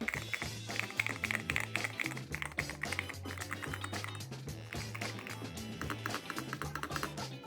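Fast, clattering keystrokes from a DIY-modded mechanical keyboard with rubber tape mods play continuously over loud background music with a steady bass line.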